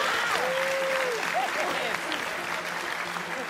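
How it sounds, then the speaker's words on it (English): Steady applause from a talent show audience after a ventriloquist's audition fills the whole stretch, evenly loud, with a brief whistle-like tone rising over it early on. "I receive big round of applause"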